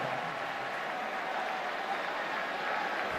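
Broad, steady roar of a college football stadium crowd at a Baylor Bears versus Texas Longhorns game, a continuous wash of cheering and applause with no single voices standing out.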